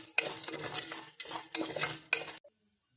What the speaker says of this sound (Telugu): ఈ కార్న్ సీడ్స్ యాడ్ చేసుకున్న తర్వాత 2 నిమిషాల పాటు గరిటెతో కలపాలి.